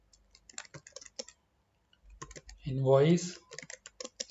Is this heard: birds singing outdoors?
no